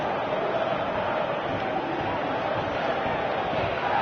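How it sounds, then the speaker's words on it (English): A football video game crowd produces a dense, steady roar that holds at an even level, with a commentator's voice over it. "The crowd appreciates good football all round there."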